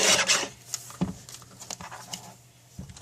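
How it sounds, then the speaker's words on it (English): Paper being trimmed for handmade card making with Stampin' Up! supplies: close, soft scraping and rustling strokes with a few sharper clicks, fairly quiet and alone. "I trim it off"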